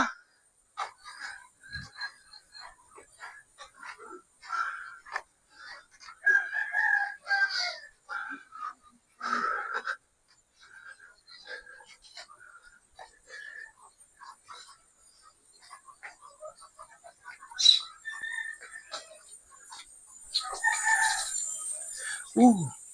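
Chickens and roosters around their coop, with scattered crowing and clucking calls at moderate distance, intermittent over the whole stretch among quiet gaps, and a few brief human sounds mixed in.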